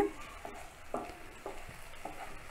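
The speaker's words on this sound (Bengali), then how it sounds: "যাতে আপনারা দেখতে পাচ্ছেন আমাদের মশলাটা কষানো হচ্ছে" Spice masala frying for a chicken curry, with soft sizzling under intermittent scrapes and stirs of a spoon against the pan, recurring roughly every half second.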